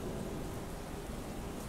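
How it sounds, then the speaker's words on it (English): Steady rain falls outdoors as an even, soft hiss of drops on surfaces, fairly faint and continuous with no voices. "How's this rain make you feel?"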